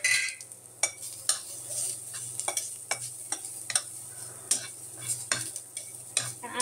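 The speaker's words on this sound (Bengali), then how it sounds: "রসুনে হালকা পানি ছিল, এই জন্য আমি রসুনটা খালি কড়াইয়ের মধ্যে দিয়ে দিচ্ছি যেন পানিটা টেনে দেয়" Garlic with a little moisture sizzles in an empty, dry wok while a utensil stirs and scrapes it, a steady close hiss broken by sharp metallic clinks at an irregular rhythm.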